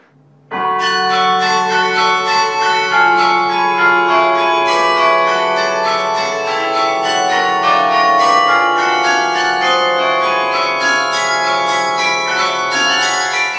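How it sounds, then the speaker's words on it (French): Carillon bells in a tower ring out in a rich, overlapping melody, many tuned bells struck in quick succession, loud and resonant, sustained throughout after a brief quiet start. "Pour faire résonner son carillon, Alfred met du cœur à l'ouvrage."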